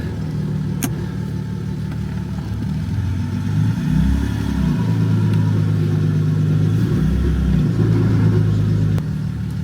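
An off-road vehicle with both lockers engaged claws up an off-camber V-notch on a backcountry trail, its engine loud and close, droning steadily and surging in a couple of heavy revs as it climbs.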